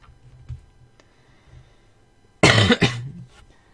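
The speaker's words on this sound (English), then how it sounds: "Sorry about that. Just needed to cough." A single loud cough bursts out after a quiet stretch of faint ticking, followed by a short second hack.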